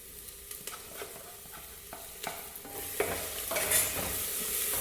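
Crushed ginger and garlic hit browning onions in a pan for beef khichda, giving a steady close sizzle with scattered stirring scrapes that grows a little louder toward the end.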